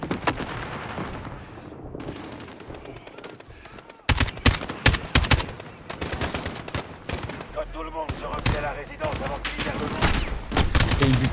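Gunfire in Call of Duty: Modern Warfare during an embassy mission, dense bursts of automatic and single shots that grow sharper and louder after a few seconds, continuous and close amid game noise.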